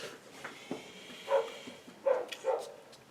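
A dog barks a few times at a moderate distance, in short, fairly faint yelps spread over a few seconds against quiet background noise.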